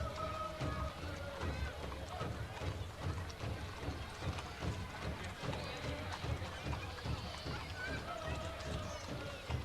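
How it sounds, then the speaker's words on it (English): Hooves of the sheriff's mounted unit's horses clopping on pavement during a parade, with a dense irregular patter and crowd noise and talk mixed in. "Now we're getting some horses."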